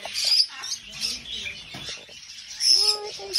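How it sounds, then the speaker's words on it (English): Pet birds in a bird store chirping and tweeting in bright bursts throughout, nearby and fairly loud, with a voice speaking briefly among them. "You see the birdies?"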